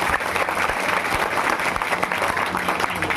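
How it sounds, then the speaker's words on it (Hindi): An audience keeps up dense, steady rhythmic clapping for a devotional bhajan to the goddess Durga, the sound loud and continuous throughout. "जिसमें मैं आप सबके तालियों की थाप भी चाहती हूँ"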